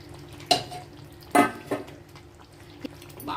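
A spoon stirs gongura chicken curry in a pan, giving a few sharp metallic clinks and scrapes spaced a second or so apart over a faint sizzle, close and fairly quiet.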